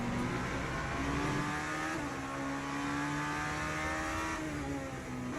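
Aston Martin race car engine in Le Mans Ultimate, a steady sustained drone with shifting tonal pitch, fairly loud and continuous throughout with no talk.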